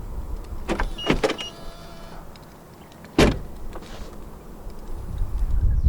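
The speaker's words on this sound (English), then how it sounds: "The windows dip down a little bit as you open the doors to clear the door frame." A brief electric whir of a 2023 BMW iX xDrive50's frameless windows lowering slightly to clear the frame, followed by a sharp click and thud of a door opening, in a quiet setting.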